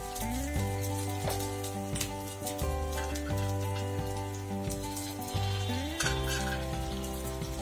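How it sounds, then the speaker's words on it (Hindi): Sabudana (sago) vadas frying in a small amount of hot oil, a steady crackling sizzle that runs continuously at close range with no talk over it. "और इसको गोल्डन ब्राउन होने तक फ्राई करेंगे हम।"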